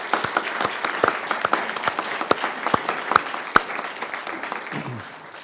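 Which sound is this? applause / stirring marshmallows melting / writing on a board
applause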